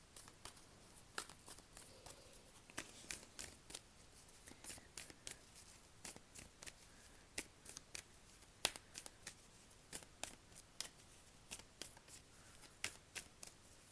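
Tarot cards shuffled close by in quiet, irregular bursts of crisp riffles and snaps, repeating steadily over a low background with no talking.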